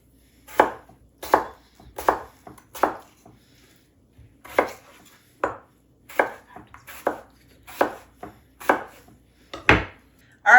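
A knife chops Yukon Gold potatoes into dice on a cutting board, making crisp, close taps in short, quick bursts with brief pauses between them.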